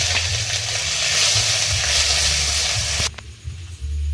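Panch phoron, dried red chilies, bay leaves and ginger crackle and sizzle loudly in hot oil in a Sundarban riverside kitchen, with a continuous close hiss that drops off abruptly after about three seconds.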